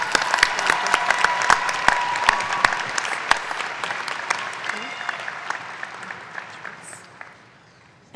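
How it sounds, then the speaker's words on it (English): A commencement ceremony crowd applauds steadily with dense clapping and a few sharp claps standing out, gradually thinning and fading toward the end. "How about another round of applause for our education graduates?"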